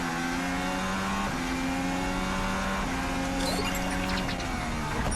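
Formula 1 race cars scream past at high revs, with overlapping engine whines shifting pitch and a steady loud roar throughout.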